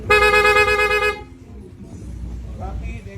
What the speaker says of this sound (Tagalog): Pag nilong press mo yung horn button, magra-rapid siya.